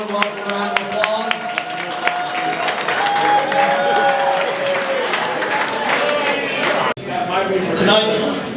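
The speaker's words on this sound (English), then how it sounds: "everybody give him a warm welcome round of applause" An audience gives a warm round of applause to welcome a speaker to the microphone. Dense, sustained clapping carries crowd murmur and voices, cuts out sharply for an instant near the end, then resumes.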